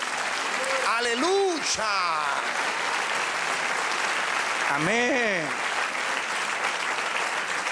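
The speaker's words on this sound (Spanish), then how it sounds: "El otro aplauso al Señor." A church congregation applauds the Lord with steady, dense clapping filling the room for several seconds, while voices call out in praise over it and a speaker's voice returns near the end.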